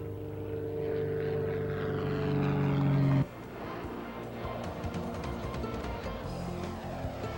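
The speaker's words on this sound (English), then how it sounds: "I hitched a ride with the Pace Jet, flown by the intrepid John and Martha King," An aircraft flying as pace jet for the 1995 EAA Oshkosh air race gives a loud, steady droning whine with strong tones that abruptly drops after about three seconds to a softer, rougher rumble.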